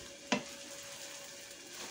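Biko, sticky rice cooked with coconut milk and white sugar, is stirred in a pan, giving one soft scrape over a faint, steady background hiss.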